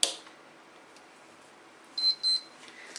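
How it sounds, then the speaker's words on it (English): A power supply switches on under a power supply tester as the tester takes up the load. After a quiet stretch it gives two short, high-pitched electronic beeps in quick succession, faint and with no voices. "That beep again is the power supply coming on and the power supply tester taking up the load"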